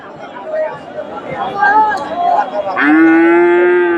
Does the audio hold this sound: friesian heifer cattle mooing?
yes